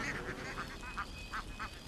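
A flock of about 5,000 ducks herded along a road in China, with repeated quacking calls sounding at a steady, uneven rhythm over constant shuffling background noise and no speech.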